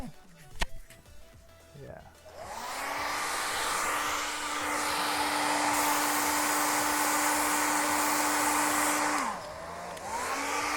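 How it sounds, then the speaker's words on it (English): A hair dryer dries a painted hoodie. It switches on after a brief clatter, runs as a loud, steady whirring hum with a faint whine, dips briefly, and then resumes. "So what I'm doing now is I'm blow drying the hoodie."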